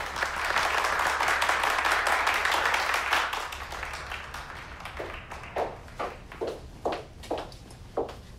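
An audience applauds Nina George, a dense wash of clapping that fades after a few seconds into scattered, separate claps and taps.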